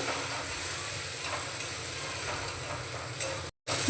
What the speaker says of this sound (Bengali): কাজু বাটা দিয়ে মশলাটা আরেকটু কষিয়ে নেব।